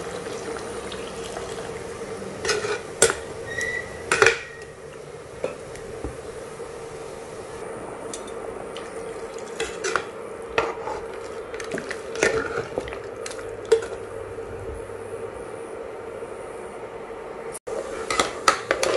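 Mutton and lentil haleem stirred in a cooking pot with water added, with intermittent scraping and clinking of a spoon against the metal pot over a steady background hiss, no talking.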